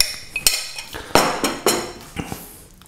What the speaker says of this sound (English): So I'm just going to serve some of that curry up.